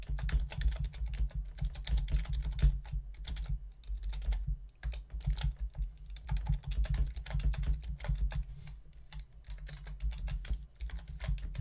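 Checkout details typed on a computer keyboard: a continuous run of quick, close key clicks with uneven rhythm and short pauses, heard alone without talk.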